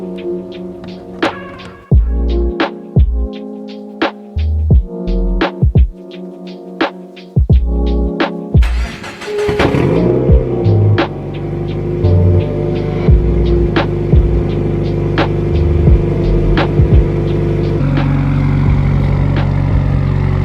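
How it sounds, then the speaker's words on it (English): A Subaru WRX with a new tune and a Tomei titanium catback exhaust cold-starts: quiet ticking and clicking, then the engine catches midway and settles into a steady, throbbing idle hum. "Just flashed the car over to a brand new tune, and the cold start was pretty quiet"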